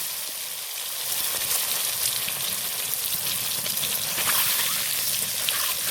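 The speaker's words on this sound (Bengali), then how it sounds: "বন্ধুরা তেলটা আমার গরম হয়ে গেছে, এবার আমি ডিমগুলো দিয়ে দেবো।" Eggs fry in hot mustard oil, a steady dense sizzle with fine crackling pops that swells slightly after the first second and holds loud and close throughout, no voices.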